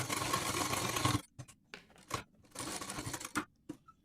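A sewing machine stitches a tuck on a blouse: a steady mechanical whir runs for about a second, then stops and starts in short bursts before a longer run and a final brief burst.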